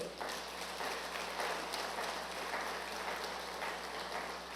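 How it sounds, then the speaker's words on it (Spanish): A church congregation applauding during a Christmas sermon, a steady, fairly distant wash of many hands clapping that holds evenly throughout. "Damos un fuerte aplauso al Señor."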